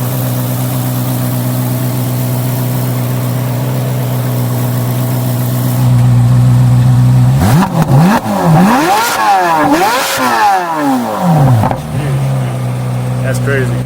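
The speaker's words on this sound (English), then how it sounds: "Even idling, you could rev it a little bit" A C8 Corvette Z06 engine idles steadily, then revs hard several times in quick succession, the pitch rising and falling sharply before settling back to idle.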